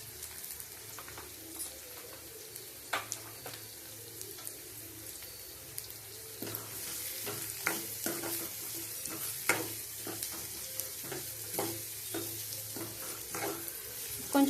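Chopped carrots and beans frying in a pan for egg rice: a soft, low sizzle under intermittent clicks and scrapes from a spatula stirring, quiet and close.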